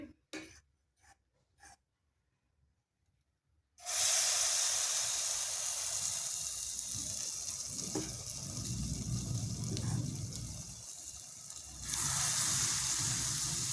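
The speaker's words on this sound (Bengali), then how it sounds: "আবার দিয়ে দেব তেলের মধ্যে।" Jackfruit malpoya batter goes into hot oil: a few quiet taps give way to a sudden loud, sustained sizzling hiss that continues steadily and swells again near the end.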